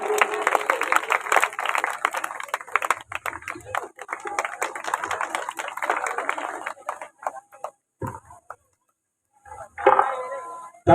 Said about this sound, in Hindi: एक बार जोरदार तालियां बजाते रहिए आप लोग।